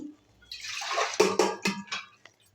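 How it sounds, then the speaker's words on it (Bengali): Water is poured from close by into a pot of dal cooking with elephant apple, a brief splashing gush that rises and gurgles in a few surges before trailing off into drips. "আর একটু জল দিয়ে দিচ্ছি"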